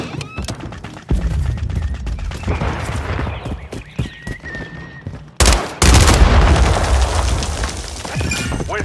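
Gunfire in the war game World War III, with sharp, loud shots cracking close by in irregular bursts, one heavy volley standing out partway through, over a busy battlefield din.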